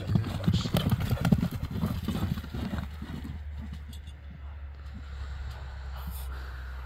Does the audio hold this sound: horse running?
yes